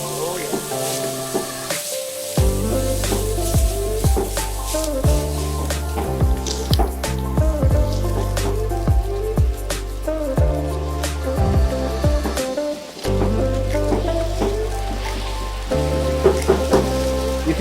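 Dosa batter poured onto a hot griddle for a rustic Mylari dosa, giving a steady crackling sizzle with scattered pops throughout, heard beneath prominent background music.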